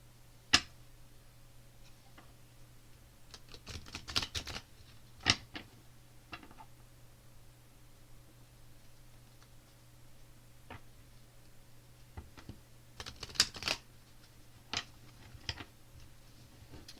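A deck of oracle cards being shuffled by hand, heard as scattered soft clicks and brief flicks in a few short clusters over a faint steady hum, quiet and close.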